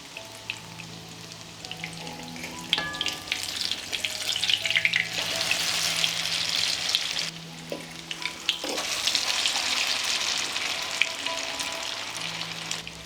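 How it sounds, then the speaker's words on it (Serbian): Zucchini slices frying in a pan, cooked a few minutes per side, give a steady loud sizzle and crackle that swells and eases with occasional stirring or turning clinks; no talk. "I pržimo tikvice po 2-3 minuta sa obe strane."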